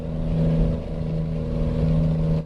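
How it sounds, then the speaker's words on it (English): A heavy truck engine in American Truck Simulator drones steadily and loudly, a deep sustained hum with a constant low tone, hauling a 100-tonne road train with many wheels along a long straight before cutting off at the end. "Engine's a beast."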